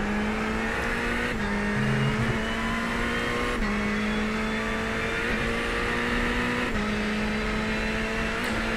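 Ferrari 488 race car engine in a racing sim game, a loud steady high-pitched drone that holds nearly constant pitch as the car hammers through a corner, with brief dips on gear changes and no voices.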